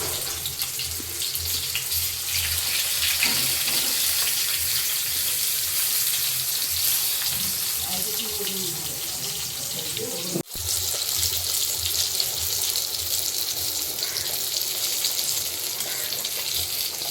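Pointed gourd (potol) slices rubbed with salt and turmeric fry in hot oil, giving a steady, close hiss of sizzling that carries on without a break and with no talking.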